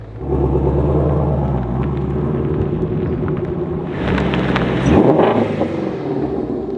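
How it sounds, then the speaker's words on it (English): A 2018 Ford Mustang Shelby GT350 rumbles deeply while backing up, its loud, close V8 idle swelling briefly with a throttle blip near the end. "Now this car sounds absolutely amazing. Let's go ahead and back it over into the shop now."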